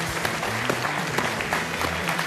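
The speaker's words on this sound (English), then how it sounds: "That's me clapping you for inviting me here." A school audience gives a clap for a radio host on a visit, a dense, steady burst of many hands filling the space with faint low background sound beneath.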